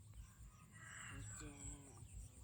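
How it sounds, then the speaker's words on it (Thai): A rooster crows in the morning on a Thai rural farm, a drawn-out call at mid distance over steady background noise, with other fowl clucking faintly. "7 โมงแล้วไก่ยังขันอยู่พี่น้อง"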